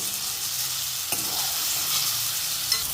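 Onion and tomato sautéing in a pan, a steady close sizzle with one brief utensil tap and faint stirring.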